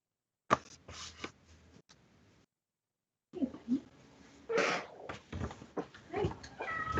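Bear, a pet cat, gives short rolling trills, a few brief purring chirps scattered among close rustling and tapping sounds, with a quiet pause in the middle.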